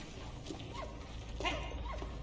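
A dog gives short yips and whimpers in the World War I video game Valiant Hearts: The Great War, a few brief calls over a steady low background hum.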